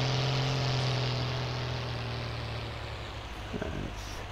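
Tractor engine idling in Farming Simulator 19, a steady low drone with a strong sustained hum that softens slightly, running alone at a constant level with a few faint clicks near the end.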